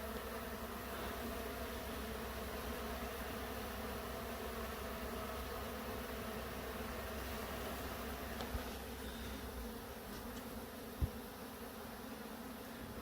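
Steady, dense buzzing of many honeybees swarming close by around a hive, a constant drone with no voices.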